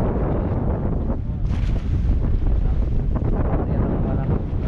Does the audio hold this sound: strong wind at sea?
yes